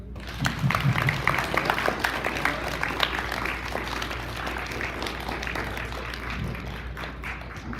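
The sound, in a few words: audience applauding the parents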